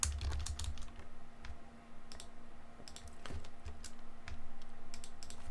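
Typing on a computer keyboard, a quick run of light clicking keystrokes in irregular bursts, close but fairly quiet over a faint steady hum, with no talk.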